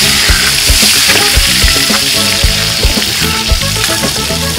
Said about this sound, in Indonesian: Langsung aja kita tumis.